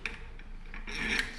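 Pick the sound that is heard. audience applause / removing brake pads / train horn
removing brake pads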